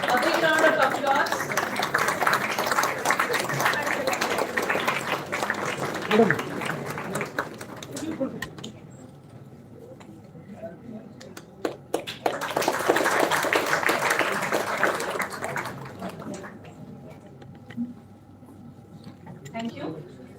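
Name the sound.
applause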